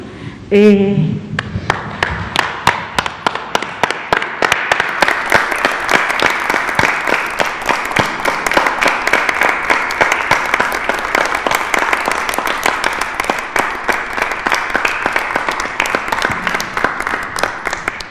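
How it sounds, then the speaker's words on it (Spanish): A long, sustained round of audience applause at a press conference, given in homage to health workers across the country: dense, even clapping that holds steady for many seconds after a brief voice at the start. "Es un aplauso que damos como homenaje a los trabajadores de la salud de todo el país"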